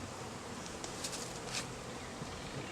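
Honey bees buzz steadily around an open hive while a package of bees is being installed, a soft continuous drone with a couple of brief louder passes near the microphone.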